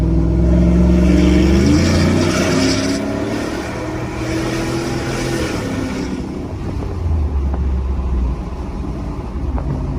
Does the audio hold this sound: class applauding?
no